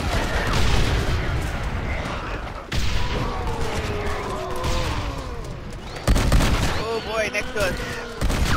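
Gunfire erupts repeatedly during a zombie hunt in Red Dead Redemption, sharp shots and booms scattered across the clip amid chaotic game effects, with excited players talking over the shooting.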